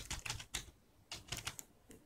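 Keys clatter on a computer keyboard in short uneven bursts, close and fairly quiet with brief pauses between them, and no voices.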